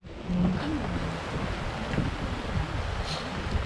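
Rain squall sweeping over a sailboat at sea, with dense broadband hiss of rain and wind noise, washing water and a few low creaks from the boat, steady and close throughout, no voices.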